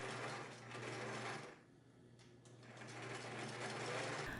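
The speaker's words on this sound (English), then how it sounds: "Unfold the horizontal edges of the waistband and sew the two front sections together along the" A sewing machine stitches the front sections of a jacket waistband together, running in a fast steady whir, slowing briefly partway through, then picking back up, close and with no voices.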